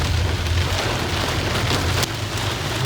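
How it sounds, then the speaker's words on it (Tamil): Heavy rain pours down steadily over the Ramzan market in Hyderabad, a dense, continuous hiss of drops with a low rumble underneath, loud and close throughout. "செம்ம மழை அடிச்சு பிடிச்சிக்கிட்டு இருக்கு சரியான மழை"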